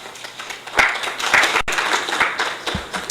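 A short burst of applause from a small crowd at a youth parliament session, a ragged patter of claps close by, briefly interrupted before fading out.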